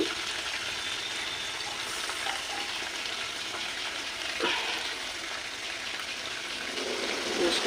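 Small chuno fish frying in hot oil in a home kitchen, giving a steady, close, dense sizzle and crackle with occasional spits and pops throughout.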